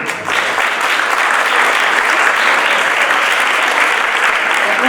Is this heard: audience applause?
yes